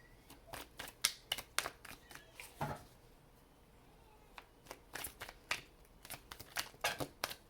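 A deck of tarot cards is shuffled in quick bursts of crisp, clicking riffles with a short pause in the middle. The sound is close and fairly quiet.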